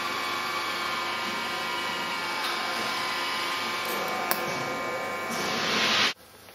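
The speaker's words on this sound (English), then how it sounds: "I'm going to weld the bottom" A welder runs along the bottom of a stainless steel container, a steady close hiss and buzz lasting several seconds with a few crackles, swelling louder near the end and then cutting off abruptly.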